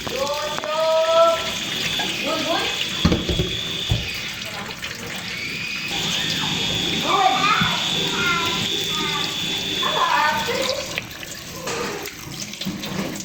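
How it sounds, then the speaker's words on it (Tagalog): Tap water runs steadily into a sink as cooked pumpkin is moved into cold water, a continuous close splashing flow while a person talks over it. "Ilagay na natin sa malamig na tubig."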